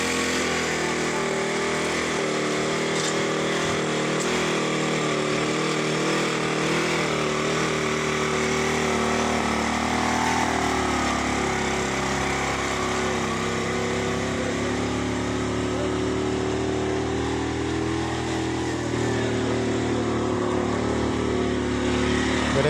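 A mechanical rice planter's small engine runs in a paddy field, a steady buzzing drone with a constant pitch that continues unbroken and fairly close throughout.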